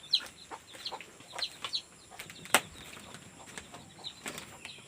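Soft cheeping and peeping of newly hatched chicken and duck chicks scattered through the clip, with light fluttering and one sharper chirp near the middle.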